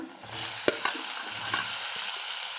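Boiled, chopped potatoes sauté with chillies in hot oil, a steady close sizzle broken by a few sharp scraping stirs of a spatula in the pan, with no voices.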